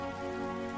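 Steady rain keeps falling and spattering in a dense, even hiss with no pauses through the short stretch, loud and close and with no voices.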